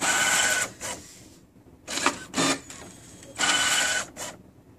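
An inkjet printer whirs and clatters in mechanical bursts after a new magenta cartridge goes in, loud and close, with short pauses between busy stretches and no talking.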